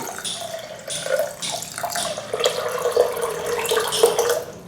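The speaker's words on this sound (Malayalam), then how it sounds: "പിന്നെ ഇതിനെ വെള്ളം ഒഴിച്ച് നമുക്കൊന്ന് പ്രഷർ കുക്ക് ചെയ്തെടുക്കാം" Water poured onto washed roasted lentils in a pressure cooker for parippu payasam, a continuous close splashing gush of water for several seconds.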